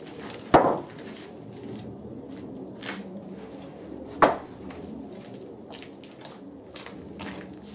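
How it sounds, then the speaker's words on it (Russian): A two-handled curved blade tool works across an unsanded wooden shiplap board, giving two sharp, loud wooden knocks a few seconds apart amid quieter scraping and handling noise. "И с помощью вот этого инструмента на ваших глазах я ее очень просто, без приложения каких-либо усилий, обчухаю."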